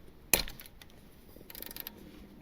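A ratchet loosening the thermostat housing screws on a 2006-2015 Honda Civic with the R18 engine gives one sharp, close crack as a screw breaks free, then a brief run of faint, quick clicks. No one speaks.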